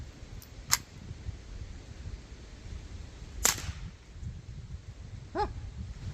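Three sharp, separate cracks of CCI Quiet segmented rimfire rounds fired into ballistic gel, each a brief distinct report over a steady outdoor background, the middle shot loudest and the last one softer.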